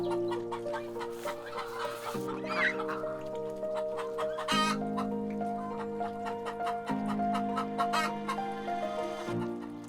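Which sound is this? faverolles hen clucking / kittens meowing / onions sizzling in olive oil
faverolles hen clucking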